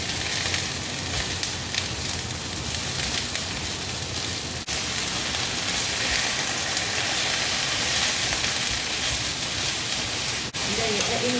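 Fried tofu and bean sprouts fry in a very hot pan, a dense, continuous loud sizzle heard up close throughout, with brief clatters of tossing.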